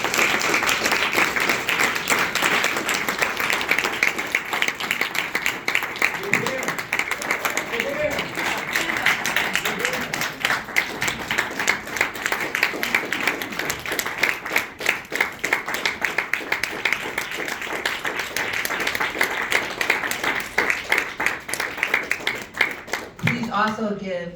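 Sustained audience applause at a book signing in a public library, steady dense clapping from a seated crowd lasting over twenty seconds, with a brief voice near the end.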